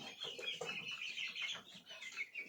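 Chickens cluck continuously in a busy, close chorus of overlapping calls, steady and fairly loud with no talking.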